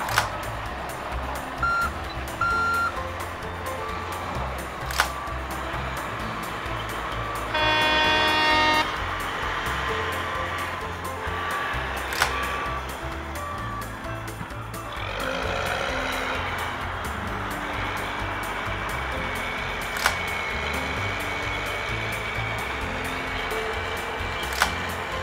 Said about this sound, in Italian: Adesso il camion della legna lavorerà con il gancio di avanti.